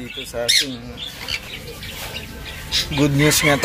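Pet sun conures squawk in harsh, loud bursts nearby in a small aviary, mixed with chirps, while a person talks between the calls.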